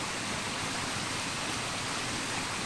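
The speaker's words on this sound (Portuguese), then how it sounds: "E a queda d'água." A small, low waterfall tumbles over smooth rock, giving a steady, dense wash of rushing water that is surprisingly noisy for its size and holds constant throughout with no voices.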